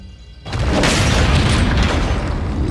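A shotgun blast goes off in a video game, a sudden loud boom after a quiet half-second, followed by sustained heavy rumbling.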